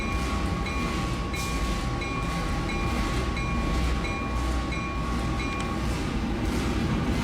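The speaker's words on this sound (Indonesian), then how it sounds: "Kita mulai ngerem lagi sampai kita berhenti stasiun Lamongan." A passenger train in the Trainz railway simulator brakes on its approach to Lamongan station, producing a loud, steady rolling rumble with wheel clatter, a faint high brake squeal and rhythmic thumps under a constant drone; no speech.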